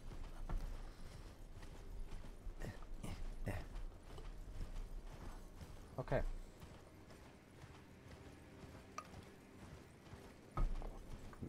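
Horse hooves clip-clopping in the video game Elden Ring, a soft steady patter of hoofbeats with faint mechanical clinks, heard under a player's occasional speech.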